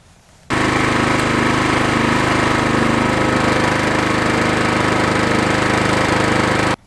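A 2022 Simplicity 10/24 snow thrower engine starts abruptly after a quiet moment and runs loud and steady with a rough, rattling drone, holding an even level until it cuts off near the end.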